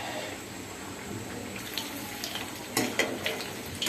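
Chicken tikka kebabs frying in a pan, a faint steady sizzle with a few soft clinks and stirring sounds, no talking.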